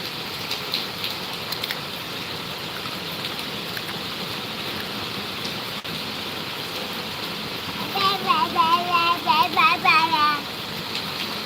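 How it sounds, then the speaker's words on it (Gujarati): Heavy rain falls in a steady broadband hiss throughout, with a voice speaking over it toward the end. "હે કેવો વરસાદ પડ્યો છે"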